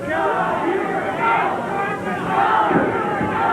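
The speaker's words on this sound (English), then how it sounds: "Now the crowd beginning to give Hubert some motivation" Crowd in a 1985 Stampede Wrestling arena swells with cheering and shouting during a one-fall match, a loud rolling roar beneath a commentator talking over it.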